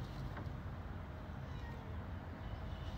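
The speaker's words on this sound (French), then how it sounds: "Appelle le chat." A house cat meows from outside a closed home, a soft mewing call heard faintly over steady background noise.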